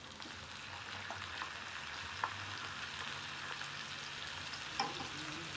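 Onion paste frying with ivy gourd in a pan gives a steady, soft sizzle and crackle, with a couple of faint clicks from stirring, close up and quiet with no talking.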